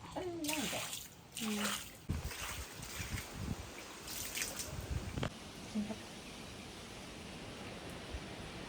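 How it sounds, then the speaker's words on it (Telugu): Spring water trickles at the Uma Maheswaram temple site, a soft, steady watery wash with faint drips; people talk over it early on before the trickle continues alone, fairly quiet. "వాటర్ ఇక్కడ నుండి వస్తున్నాయి"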